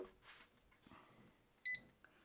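A single short, bright electronic beep from a button on a large 16-inch digital wall clock, preceded by faint handling noises, in an otherwise quiet room.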